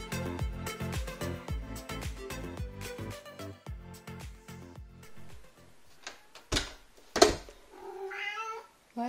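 A small cat meows several times near the end, clear and close, after a stretch of rhythmic tapping and knocking sounds.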